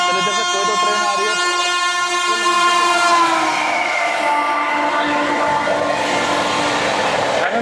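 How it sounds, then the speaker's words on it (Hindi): Train horn sounding with strong harmonic tones as a train approaches on an Indian railway line, then the rising rumble and wheel noise of the passing train, heard from an onboard vantage near the track. "चलिए, जैसे कोई तो ट्रेन आ रही"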